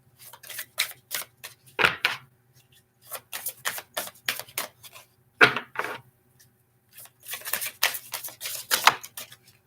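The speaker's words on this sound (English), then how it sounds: "Again, I got the same thing, and I shuffled. You saw me shuffling." Playing cards being shuffled by hand during a card-reading session, coming in several short riffling bursts separated by brief pauses, close and fairly clear with no talk over it.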